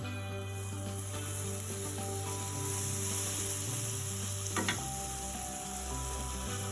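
Butter sizzles and fries in a hot pan while bread is being made, a steady crackling hiss close by with faint stirring scrapes and a brief clatter near the end, no talking.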